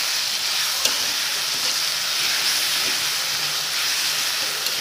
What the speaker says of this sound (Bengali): তো আমি এটাকে নেড়ে করে ভালো করে মিশিয়ে নেব